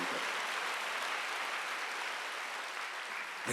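A church congregation claps together during a Korean Sunday worship service, a dense, steady wash of applause that fills the whole stretch without a break and without any voices on top.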